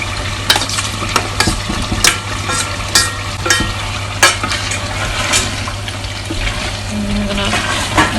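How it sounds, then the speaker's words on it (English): Potatoes browning with spiced minced lamb in a pot, a loud steady sizzle broken by regular sharp clanks of a spoon stirring against metal. "Brown these for like roughly 5 to 10 minutes, and once this is nicely mixed in with the spices"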